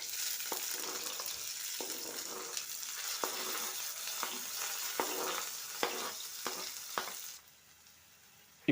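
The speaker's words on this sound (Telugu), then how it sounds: "ఇది వేడెక్కిన తర్వాత ఒక పెద్ద సైజు ఉల్లిపాయ అండి కట్ చేసుకున్నాను," One large chopped onion frying in hot oil in a pan for a prawn curry, a steady close sizzle with occasional clicks of stirring, fading suddenly near the end.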